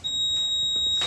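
A smoke alarm shrieks in a garage with one steady, piercing high tone that runs loud and unbroken for the whole clip, with faint muffled noise beneath it.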